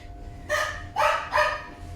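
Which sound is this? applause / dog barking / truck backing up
dog barking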